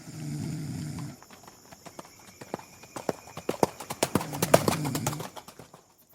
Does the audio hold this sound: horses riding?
yes